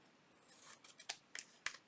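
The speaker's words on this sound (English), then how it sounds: "These little scissors, something's happened to them." Small, dull scissors cutting paper, a handful of crisp snips spaced unevenly over two seconds, close and fairly quiet with no talk.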